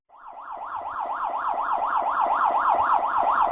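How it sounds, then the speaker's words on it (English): A loud electronic man overboard alarm on a boat wails in a rapid, repeating rising-and-falling warble, starting abruptly and holding steady without any voices. "The man overboard alarm goes off."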